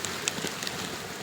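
Rain falls steadily in a broad, even hiss, with a few sharper drip-like taps scattered through it, fairly close and alone with no voices.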